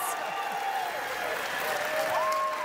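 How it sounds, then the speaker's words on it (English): A large Hall H convention audience at a Marvel's Wolverine panel at San Diego Comic-Con applauds steadily, a dense wash of clapping with cheers and whistles throughout. "One more round of applause."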